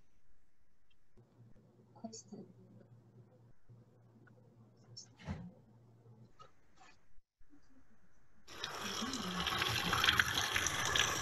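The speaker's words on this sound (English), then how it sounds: "In all the corners, you can drink great cold water directly from Roman aqueducts." Cold water gushing from a Roman aqueduct drinking fountain in Rome, a steady, loud splashing stream that starts abruptly after a stretch of quiet talk and faint background noise.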